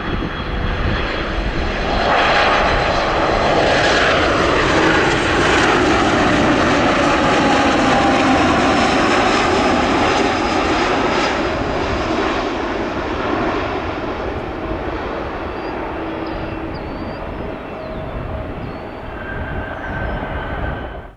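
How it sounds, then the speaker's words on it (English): A United Airlines Boeing 737 jet airliner landing at O'Hare, its loud, steady engine roar swelling with a descending whine, then fading gradually across about twenty seconds with no talk. "A ubiquitous United Airlines 737 followed the A319 in."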